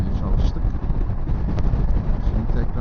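Strong wind buffets the microphone on a long road trip in Turkey in a steady, loud rumble, with a faint engine-like drone underneath and no clear speech.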